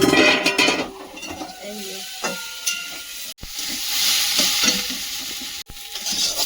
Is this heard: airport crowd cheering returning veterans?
no